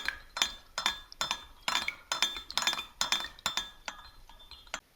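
A utensil stirs a 72% isopropyl alcohol and glycerin hand sanitizer mixture in a glass container, clinking against the sides in about a dozen sharp, close taps at an irregular, steady pace.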